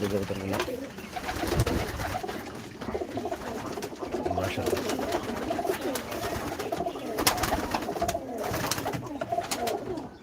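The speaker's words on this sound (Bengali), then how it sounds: "এখানেও কয়েকটা ব্রিডিংয়ের কবুতর আছে" Pigeons coo steadily throughout, soft repeated throaty calls layered over each other amid a busy, continuous background of other bird sounds.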